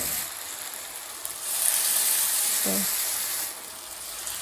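Chicken chop pieces lowered into hot oil set a steady close hiss and sizzle that rises partway through, holds and then eases slightly.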